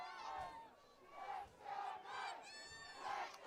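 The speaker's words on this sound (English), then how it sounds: "Now the Floral Park crowd getting loud" Floral Park fans cheer and chant in rising, repeated waves at a high school soccer final at Farmingdale State, heard from a distance and fairly faint.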